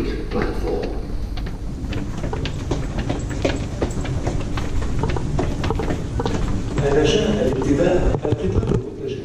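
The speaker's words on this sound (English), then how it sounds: "The train to UAE Exchange will arrive at UAE Exchange platform." A Dubai Metro train runs along the rail line, with a steady rumble and rhythmic clicking of wheels on track throughout, while people talk nearby and an announcement-like voice is heard.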